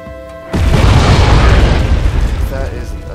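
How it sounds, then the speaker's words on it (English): Enemy artillery is hit and explodes in the PC war game Wargame: European Escalation, a loud, sudden deep boom followed by a rumbling roar that fades slowly. "that is the other team's artillery getting hit"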